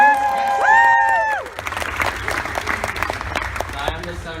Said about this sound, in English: Give him a round of applause for me.